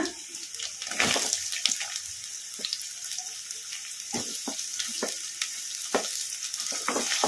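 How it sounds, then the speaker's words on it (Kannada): Onions frying in oil in a pan, added after garlic for an egg fried rice, give a steady close sizzle with intermittent stirring scrapes and clinks throughout. "ಉಳ್ಳಾಗಡ್ಡಿ ಏನು ಜಾಸ್ತಿ ಫ್ರೈ ಆಗೋದೇನು ಬೇಡ ಒಂದು ಎರಡು ನಿಮಿಷ ಎಣ್ಣೆಗೆ ಫ್ರೈ ಮಾಡ್ಕೊಂಬಿಡೋಣ"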